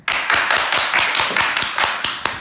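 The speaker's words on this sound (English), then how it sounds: "Mom, clap." A person claps hands sharply and repeatedly, about a dozen crisp claps in an even, brisk rhythm, close by during training of a dog named Reyk, with no talking.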